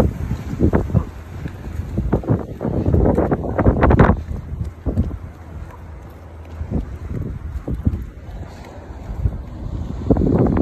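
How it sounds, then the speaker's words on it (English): Gusty wind buffets the microphone at Venice Fishing Pier in Venice, Florida, coming in loud rumbling bursts with brief lulls, with faint water movement beneath. "It's a little windy."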